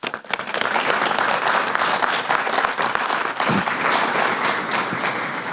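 Applause from the audience follows a talk at a gathering of opinion leaders in Santo Domingo: a full, steady wash of clapping from many hands, loud and sustained throughout.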